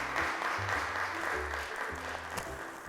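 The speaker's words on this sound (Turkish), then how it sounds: "Ve Asya'yı alkışlarla çağırıyorum." An audience claps steadily for about three seconds, a dense wash of applause that stays fairly even and fades slightly near the end.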